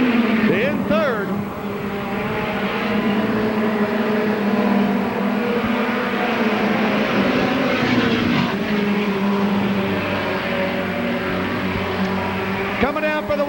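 Midget race cars lap a dirt oval at the Belleville Midget Nationals, a continuous loud whining engine drone with rising and falling pass-by sweeps, under an announcer's running commentary.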